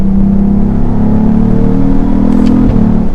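A 2022 Cadillac CT4-V Blackwing engine pulls hard out of a turn, a loud, steady droning roar with a rising pitch that holds throughout, close and without talk.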